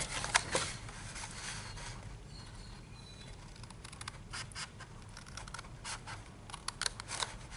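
Scissors snip through paper in a series of short, close scratchy cuts, irregular and fairly quiet, with small pauses between strokes.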